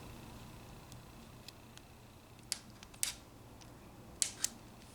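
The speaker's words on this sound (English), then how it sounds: "And then trim it with scissors." A few quiet, crisp snips spaced a second or so apart, two paired near the end, over a faint steady hiss; scissors trimming tape close by.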